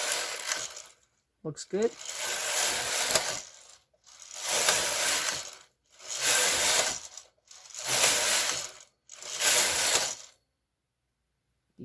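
A knitting machine carriage is slid slowly across the needle bed of a sock project, making five broad, even passes of rattling, ratcheting mechanical noise with short silences between them. A voice speaks briefly near the start.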